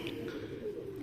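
A kept flying pigeon on a rooftop gives a soft, brief coo, faint and low over quiet background noise.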